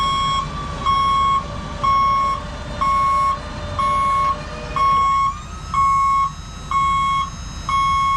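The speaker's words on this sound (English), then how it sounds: "I like the backup alarm, but I also don't like the backup alarm." A truck's backup alarm repeats its reversing beep in a steady rhythm, loud and close, around a dozen evenly spaced tones over a low engine rumble at a trail repair work site, with no talking.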